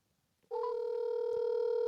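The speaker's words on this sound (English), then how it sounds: "And let's make the phone call." A telephone call begins with a dialing tone that switches on abruptly after a short silence and holds as a loud, steady electronic tone, with a faint click partway through.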